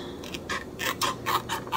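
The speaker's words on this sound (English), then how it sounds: "cut around" Scissors snip through paper in a quick series of short, crisp cuts, close by and fairly quiet, with no talking.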